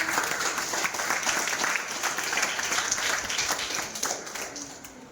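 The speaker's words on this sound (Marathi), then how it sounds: "त्यांना त्यांच्यासाठी एकदा सगळ्यांनी टाळ्या वाजल्या पाहिजे" School students at an essay and drawing competition event applaud together, a dense sustained burst of clapping from a crowd that fades slightly toward the end, with no speech over it.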